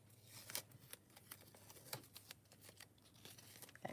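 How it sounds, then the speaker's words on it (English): Masking tape is peeled off a glittery stenciled craft project, giving quiet, close crackling and tearing bursts in an uneven stream, with no voices. "Let me take my tape off of here."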